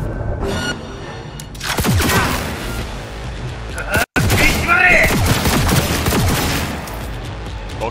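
Gunfire in the video game Cyberpunk 2077: rapid, loud bursts of shots and impacts fill the stretch, with a brief dropout midway, while someone talks over the action.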